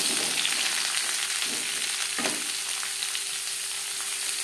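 Papaya pieces sizzle steadily in a pan of hot oil for a vegetarian papaya curry, a continuous close frying hiss with a couple of brief stir scrapes and no talking.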